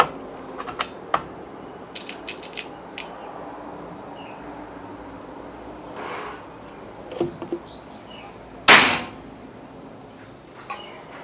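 A PCP Mauser air rifle fires a single sharp, loud crack late in the stretch, preceded by scattered mechanical clicks and ticks of handling and loading, with quiet background between.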